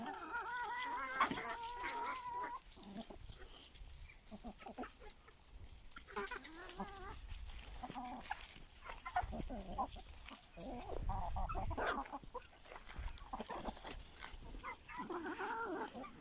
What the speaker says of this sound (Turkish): Evden getirdiğimiz organik atıkları tavuklar bir güzel yiyorlar.